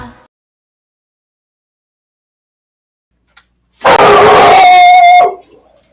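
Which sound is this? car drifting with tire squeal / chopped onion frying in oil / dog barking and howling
dog barking and howling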